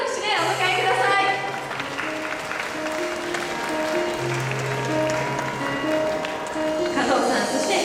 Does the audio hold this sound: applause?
yes